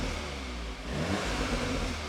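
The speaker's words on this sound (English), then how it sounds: "the car obviously is cold, so we're not going to go too daft with the revs." A cold Audi S3 Black Edition engine is revved gently, a steady close mechanical drone that rises slightly with the throttle, heard alone without talk.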